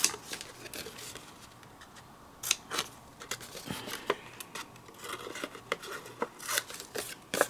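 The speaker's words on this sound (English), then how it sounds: "Right now I'm going to trim this extra away." Scissors snip away excess paper in short, irregular cuts, quiet and close, with soft rustling of the paper between snips and no talking.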